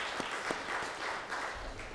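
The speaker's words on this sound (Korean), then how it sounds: "박수로 하나님께 합니다." A large church congregation claps together during a Sunday worship service, a thick, even patter of applause sustained throughout.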